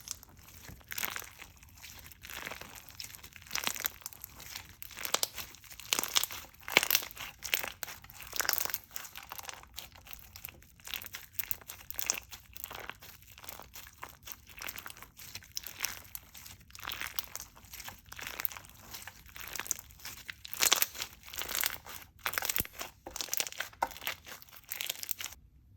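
Crunchy slime is squished and worked by hand, giving a dense stream of close crackling, crinkling pops in uneven bursts that continue throughout with no talking.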